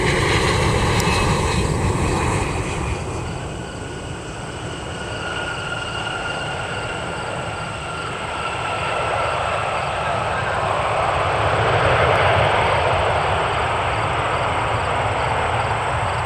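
An American Airlines airliner arriving from DFW roars past in a loud, sustained jet engine rush that thins and then swells again as it nears, with a high whine riding over the broad roar.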